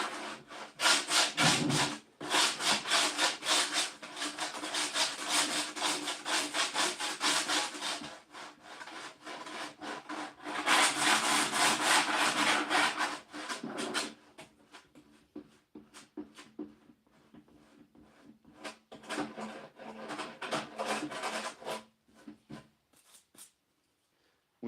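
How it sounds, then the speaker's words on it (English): Sandpaper rubs over a vintage wooden chair in bursts of brisk back-and-forth strokes, loud and close, separated by quieter pauses and light scraping. "We are going to clog up sandpaper a little bit, so be prepared to swap your sandpaper out whenever you need to."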